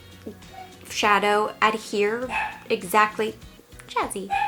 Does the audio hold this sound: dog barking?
yes